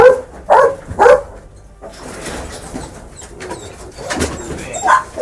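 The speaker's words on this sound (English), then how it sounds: "What breed is this? Saint Bernard." A Saint Bernard dog at a breeding kennel in Nigeria gives several loud, deep barks in a short burst, followed by quieter rustling and a few more barks near the end.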